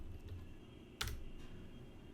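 A short stretch of computer keyboard typing while C code is written: a few faint keystrokes and one sharper clack about midway, under a low steady room hum.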